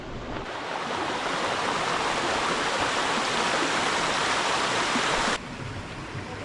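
A waterfall in the Eskdale valley near Lingcove Bridge pours in a steady, broad rushing roar, close and continuous, with no voices over it.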